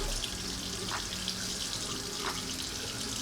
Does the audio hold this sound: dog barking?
no